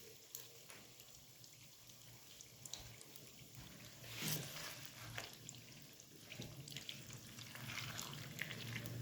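Rice fries on a high flame for Chinese-style fried rice, a quiet, steady sizzle broken by occasional clinks and scraping stirs, heard close with no voices.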